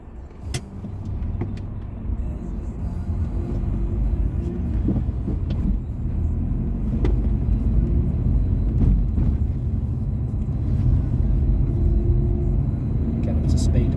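Dacia Duster with a 1332 cc four-cylinder petrol engine accelerating and shifting gears, a steady rising road rumble with engine tone close inside the cabin, with someone talking over it.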